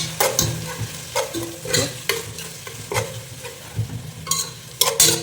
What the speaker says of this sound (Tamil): ஓவராக தெரிக்க ஆரம்பிக்குது